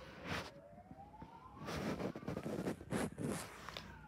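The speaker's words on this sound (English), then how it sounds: "I just woke up hearing these sirens" Police sirens wail at night, a faint rising tone sweeping slowly under rustling and handling noise close by, heard from indoors at a dog kennel.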